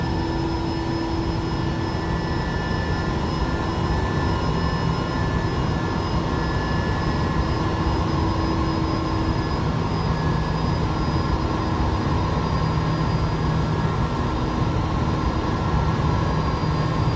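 A Bell 429 helicopter flies in the X-Plane 11 flight simulator, giving a continuous, even turbine whine over a dense rotor drone that stays level throughout.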